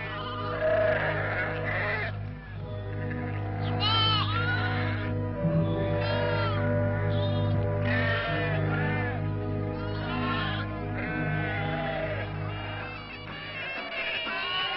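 A flock of sheep in Algeria bleats over and over, many overlapping calls close by, with a steady low hum underneath.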